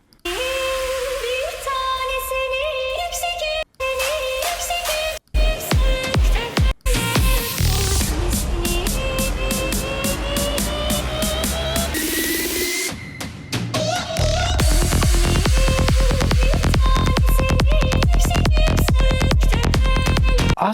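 Driving psytrance with a pounding kick, dense synth layers and a sung Indian vocal line, loud and continuous, with a brief drop midway.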